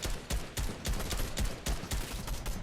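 Rapid bursts from an assault rifle in Fortnite, sharp regular shots about every quarter second, loud and close, with game ambience between them and no voices.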